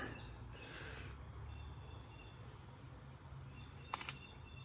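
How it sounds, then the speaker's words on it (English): A camera shutter fires for a long exposure, giving a sharp pair of close clicks near the end over an otherwise quiet room hiss. "That was a long shutter speed."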